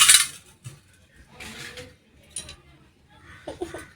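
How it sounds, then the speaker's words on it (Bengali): A cooking pot being lifted off a home kitchen stove with metal tongs: a few scattered metallic clinks and scrapes, close by, with quiet gaps between them. "ওই সারাশি ধরে ওই হাঁড়িতে নামাও"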